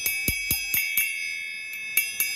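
A small 4-inch Paiste chime is struck repeatedly, giving bright, high-pitched metallic pings with a long shimmering ring that carries between hits, in an uneven rhythm of about eight strikes.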